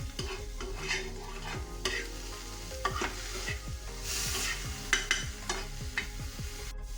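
Onion and capsicum, lightly salted, fry gently in a pan while a spatula stirs them, giving a steady sizzle broken by repeated scraping strokes and occasional clinks at close range.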